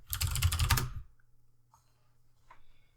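A short, quick burst of typing on a computer keyboard, with rapid close clicks for about a second, followed by near silence and a faint low hum.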